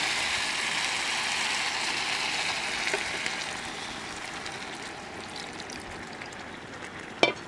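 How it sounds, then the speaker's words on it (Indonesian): Chicken feet broth pours into a hot pan with a loud, rushing, sizzling stream that slowly fades, ending with a sharp clink. "Nih, kaldu rebusan ceker masuk."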